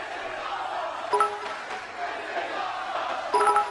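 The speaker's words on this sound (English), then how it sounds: "Can you hear the crowd?" A wrestling arena crowd roars and cheers without a break, with sharper bursts of noise rising twice over the steady din.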